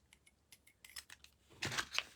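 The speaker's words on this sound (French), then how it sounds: "Je vais sortir mes ciseaux pour les rubans." Scissors snip through ribbon during a craft session, giving a few quiet clicks and cuts early on, then a louder, closer rasping cut and a sharp snip near the end, with no talking.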